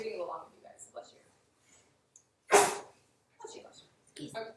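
A single sharp sneeze bursts out midway between stretches of nearby talking in a lecture setting.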